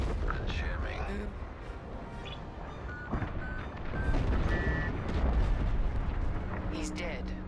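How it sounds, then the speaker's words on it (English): A frigate blowing up in a space battle: a dense, continuous roar of explosions and rumbling booms fills the scene loudly, swelling midway, with bright tonal effects and voices over the top. "The frigate is about to explode."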